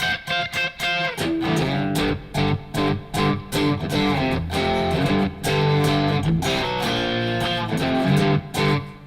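Heavily distorted electric guitar, a Telecaster played live, chugs through a loud riff, with rhythmic stops and bursts of crunchy chords repeating throughout, no voices.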